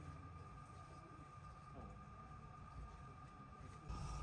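Steady low rumble and hum inside a local train on the way to Miyajima Island, with a constant whine above it and a slight rise in noise toward the end, no speech.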